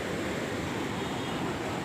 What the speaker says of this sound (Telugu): చూడండి, పెన్నా పరవళ్ళు ఎలా ఉన్నాయో